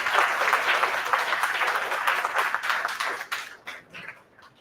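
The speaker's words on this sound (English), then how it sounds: "So, a big round of applause for Amma and Nandini." An audience at a book launch gives a round of applause: full, close clapping from a crowd that holds strong for a few seconds, then thins into scattered claps and fades away.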